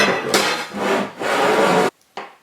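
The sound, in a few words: marking lines on wood with a pencil and square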